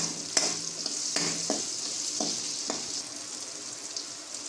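Garlic fries in oil for a village-style radish mutton curry, with a continuous bright sizzle. Several sharp scrapes of a spoon come as it is stirred in the pan, heard up close without voices.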